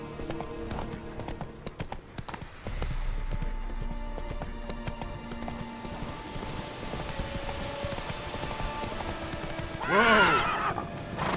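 Roach the horse galloping in The Witcher 3, with rapid rhythmic hoofbeats that carry on steadily before a loud neigh near the end, alongside game music and a brief shout from a player.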